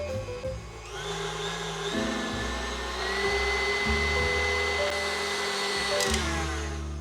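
A food processor with a whisk attachment whips yo-yo biscuit mixture, a steady close motor whir running almost the whole time with a slight change partway and easing near the end; no voices.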